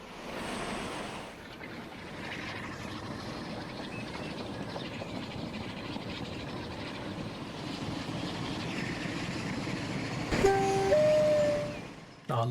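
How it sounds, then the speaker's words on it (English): A freight train in Transport Fever 2, hauling grain cargo, pulls away with a steady rumbling roll. Brief horn-like tones sound near the end over the continuous broad noise. "train depart."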